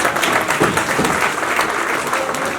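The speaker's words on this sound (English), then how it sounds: "So big round of applause for them" Loud, dense applause from an audience at a university entrepreneurship awareness program, a continuous close-up roar of many hands clapping at once.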